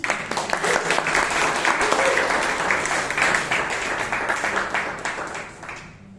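Members of a Toastmasters meeting clap together in a room, a dense, lively patter of many hands that holds steady, then thins and fades out at the end.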